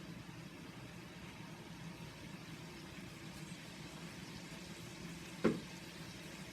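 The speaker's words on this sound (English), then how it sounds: "our onions cook because we want them soft enough" Onions softening in a pan, giving a steady, low, faint sizzle throughout with one brief clink near the end and no talk.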